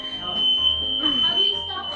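Smoke detectors shriek during Thanksgiving cooking, a piercing continuous alarm tone sounding over people talking in the kitchen.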